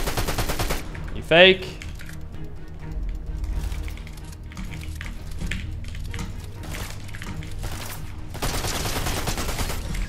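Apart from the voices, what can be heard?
gunfire in a Fortnite video game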